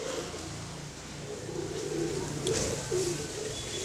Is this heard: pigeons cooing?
yes